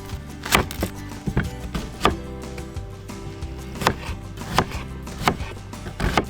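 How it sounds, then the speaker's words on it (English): An onion is chopped with a knife on a board at a forest campsite, a series of sharp, irregular knocks, some quick pairs and some spaced apart, close and clear against a quiet background. "Let's chop up an onion."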